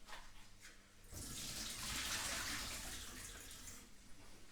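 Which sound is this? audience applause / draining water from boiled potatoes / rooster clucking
draining water from boiled potatoes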